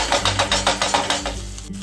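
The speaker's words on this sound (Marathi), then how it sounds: "गरम झालं ना की यामध्ये आपल्याला मोहरी टाकायची आहे, थोडंसं हिंग टाकूया, कढीपत्त्याची पानं टाकायची आहे" Mustard seeds, asafoetida and curry leaves hitting hot oil for a tempering, a steady crackling sizzle with rhythmic popping bursts, close and loud, fading toward the end.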